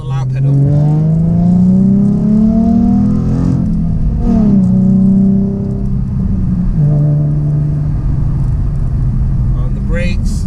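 A 2012 Ford Mustang 3.7L V6 Transformers Edition revs hard under heavy throttle on twisty roads, its loud engine note climbing in pitch through the gears with brief dips between pulls, close and steady throughout.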